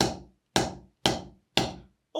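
A drum is struck with a firm grip, giving four loud, evenly spaced hits about half a second apart. Each has a sharp attack and a quick fading ring, with no other sound.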